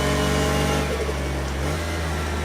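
Porsche engine in the racing game Project Cars 2, a steady, loud mid-pitched drone with a low rumble that holds fairly even throughout, the pitch dipping slightly toward the end.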